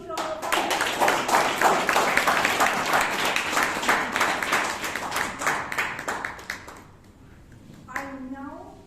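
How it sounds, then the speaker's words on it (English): Loud, dense applause from a Toastmasters meeting audience in Bangalore, many hands clapping steadily for about seven seconds before fading, with a voice speaking briefly afterward. "Can we have a big round of applause?"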